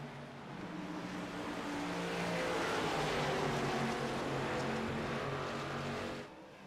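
Race cars accelerating at Rockingham Speedway during a Freedom Racing Series event, a sustained engine roar that swells and holds before dropping off sharply near the end.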